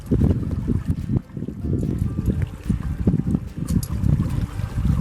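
Creek water flows in a steady low rushing murmur with small trickles, continuous and fairly close, with no talking.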